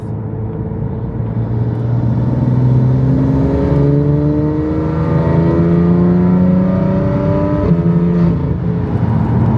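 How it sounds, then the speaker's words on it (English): A BMW F8X with a valvetronic exhaust blips and revs loudly as it is downshifted manually through the gears, with engine pitch climbing and falling in repeated steps over a constant close rumble and no voices. "We're in 7th gear, downshift to 6th"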